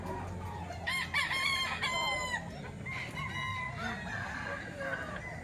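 Stag roosters at a busy poultry market in Baliwag, crowing several times in a row and clucking over a murmur of background crowd voices.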